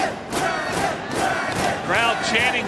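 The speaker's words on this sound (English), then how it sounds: "Crowd chanting Dragon" A wrestling crowd at a Ring of Honor tag-team match chants 'Dragon' for the injured Danielson, a loud, rhythmic, full-arena chant with rising, overlapping shouts that swells in its last second.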